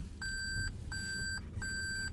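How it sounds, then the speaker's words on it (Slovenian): A Toyota Prius sounds its reversing warning from inside the cabin: three even, high electronic beeps, each held for about half a second with short gaps between them, over a low engine or road hum. "Če se Toyoti to piskanje zdi že nujno potrebno"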